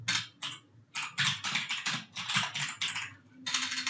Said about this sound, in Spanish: Mi teclado hace mucho ruido porque es un teclado de gamer.